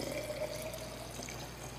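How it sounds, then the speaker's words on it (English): Milk pours steadily from a carton into a clean glass jar in a home kitchen while preparing kefir, giving a continuous close liquid trickle and gurgle for a couple of seconds. "Pour it in a jar, a nice clean glass jar."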